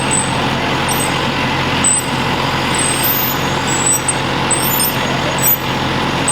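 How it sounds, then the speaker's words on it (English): A squealing bearing on a mixer in a shed gives faint, intermittent high-pitched whines above a steady, loud broadband machinery rumble throughout. "I hope that's not a squealing bearing I'm hearing"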